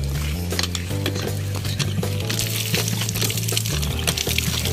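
Tap water pours steadily into a basin outdoors, mixed with clinks of dishes and pots being washed, fairly close and continuous with no talking.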